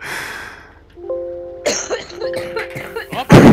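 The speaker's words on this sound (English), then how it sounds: "Jeez, that's a bad cough." A rough, harsh cough bursts out in a couple of close, loud hacks over a farming game session, with some brief voice sounds and tonal game noises around it.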